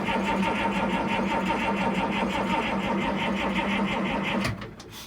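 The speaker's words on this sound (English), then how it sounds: "there's not a lot of crank in that starter." A slow, rhythmic whirring of a 1955 vehicle's engine starter cranking steadily and weakly for several seconds, then cutting off abruptly.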